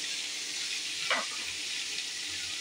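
A mix of chopped onion, carrot, raw mango and curry leaves sizzles steadily in a hot pan, with one brief scraping stir partway through.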